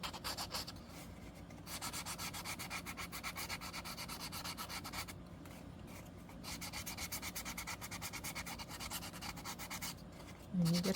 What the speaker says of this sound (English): So I have an emery board, just one of your regular emery boards, and I'm just gonna scratch it up a little bit to further distress it.